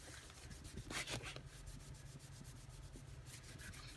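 A hand rubs repeatedly across the surface of a well-worn journal, producing faint, close, rhythmic scratchy strokes in a quiet room.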